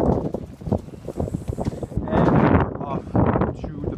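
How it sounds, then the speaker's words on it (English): Strong wind blows outdoors beside a garage, buffeting the microphone with a low, rough roar that swells louder through the second half, with muffled voices underneath. "It's really windy."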